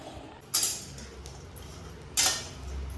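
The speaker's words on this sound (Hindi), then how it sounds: "पलटा से चला के ये नारियल को हम अच्छे से भून के लेंगे।" Coconut roasts in a pan over a medium gas flame while a spatula stirs it, bringing two bright scraping sweeps of metal against the pan over a low background hum.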